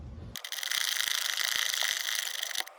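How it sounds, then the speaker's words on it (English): A hand ratchet loosens an 18 mm bolt on the rear shock absorber of a Chevy Equinox or GMC Terrain. A quick run of close, sharp clicks sits over a brief rasping, mechanical rush. "take off this 18 mil bolt right here with a ratchet"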